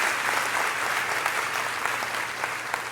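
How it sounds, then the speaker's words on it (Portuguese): A church congregation gives a steady, full round of applause, dense clapping holding at an even level throughout with no voices standing out. "Pode dar uma salva de palmas."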